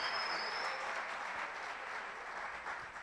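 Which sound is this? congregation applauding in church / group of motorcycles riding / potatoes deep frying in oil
congregation applauding in church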